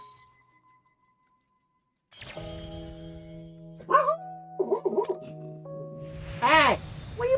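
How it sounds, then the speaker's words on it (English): A dog barks several times in a short burst with yips, close and fairly loud, over a steady electronic hum, coming in after a stretch of near silence. "Hey! What are you barking at?"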